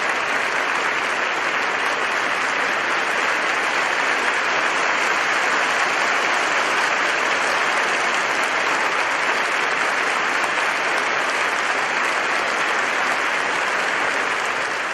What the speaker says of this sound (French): Applaudissions le Seigneur.